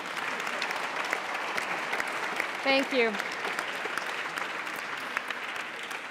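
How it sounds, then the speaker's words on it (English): Applause from a conference audience at a crop diversity summit, a steady broadband patter lasting the whole stretch, with a brief spoken thanks heard over it partway through. "This is your round of applause."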